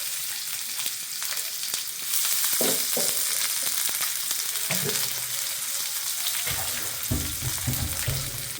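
Onions sizzling and crackling in hot oil in a home kitchen pan, a steady, fairly loud frying hiss with occasional stirring scrapes and clinks.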